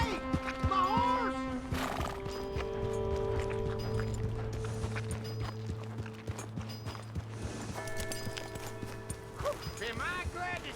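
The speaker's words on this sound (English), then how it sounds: "Hey! My horse!" Horse in Red Dead Redemption 2 whinnying, followed by a clip-clop of hooves and tonal game music, with voices talking over parts of it and another whinny near the end.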